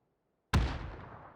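A grenade detonates in a competitive video game match, one sudden loud blast after brief silence, with a booming low thump and a long rumbling tail fading over a second.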